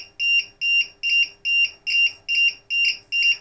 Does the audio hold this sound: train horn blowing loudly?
no